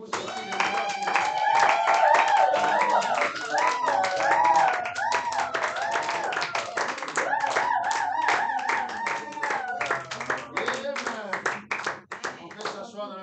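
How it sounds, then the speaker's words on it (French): A church congregation at a Sunday service claps and cheers for God, with steady clapping and crowd noise under a loud leader's voice and singing, fading toward the end. "tu acclames très très fort pour ton Dieu"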